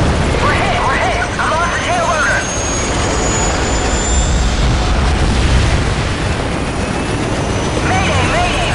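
A helicopter takes a hit in the video game Call of Duty Modern Warfare: a loud, continuous turbine roar and rotor wash fill the scene while voices speak over it.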